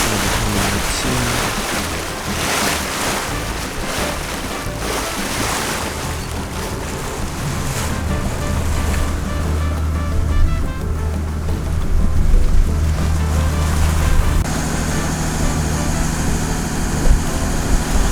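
Steady wash of waves and surf around a sailboat motoring through open sea, with a continuous low engine drone underneath and wind rushing across the microphone, no voices.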